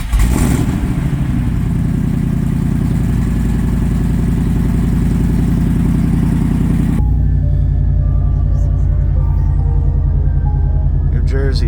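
A supercharged, built-motor Ford SVT Lightning pickup engine runs loudly and steadily up close, a deep rumbling drone that shifts to a slightly lower, smoother idle partway through.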